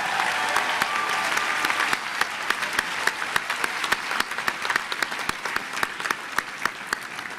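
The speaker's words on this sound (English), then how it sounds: "let's have another round of applause for them" An audience at a 2018 university undergraduate commencement applauds degree candidates from a musical theater school, a dense, steady wash of clapping with sharp individual claps standing out, sustained and fairly loud with no speech over it.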